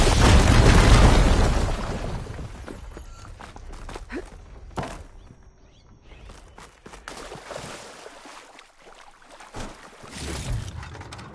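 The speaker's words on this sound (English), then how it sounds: "Should be able to blow up that fire gleam." A fire gleam blown up in Horizon, a loud blast at the start that rumbles and fades, followed by scattered thuds, crackles and movement sounds.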